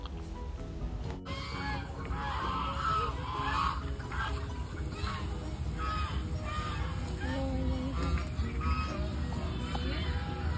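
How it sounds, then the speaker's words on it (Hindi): Ducks on Clement Town lake in Dehradun honk and quack repeatedly over a constant low background rumble, calls scattered irregularly throughout at moderate distance. "यहाँ पे सारे बतख अभी ऊपर वाली साइड जा रहे हैं"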